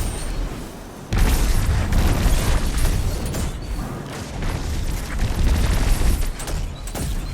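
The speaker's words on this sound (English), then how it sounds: "We're gonna be popping crazy grenades." Heavy booming blasts of grenade explosions in the video game Destiny 2, Witch Queen legendary campaign combat, loud and continuous after a brief quiet start, with dense overlapping bursts and gunfire-like crackle.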